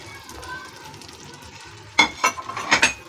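Mushrooms being stirred into chilli sauce in a pan for restaurant-style chilli mushroom, with a quiet low sizzle followed by a few sharp scraping and clinking stirs near the end.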